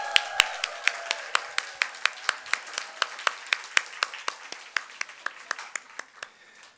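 A church congregation at a Sunday service claps in a steady, even rhythm, sharp hand claps repeating about every quarter second for nearly seven seconds at moderate distance, with no cheering voices standing out.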